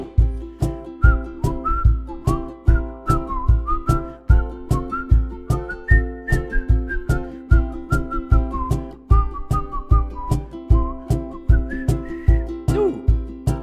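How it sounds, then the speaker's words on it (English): Someone whistles a bright, cheerful melody over a steady strummed ukulele accompaniment during a casual group play-along, the tune loud and clear for the whole stretch with no talking. "Whistle."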